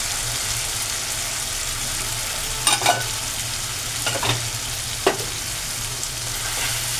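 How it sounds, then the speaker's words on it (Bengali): A mixed spice paste hits a pan of frying fish roe curry with a continuous loud sizzle, punctuated by a few sharp stirring clacks and scrapes, with no talking. "এই মশলা যেটা মিক্স করে রেখেছিলাম সেটাও ঢেলে দিলাম"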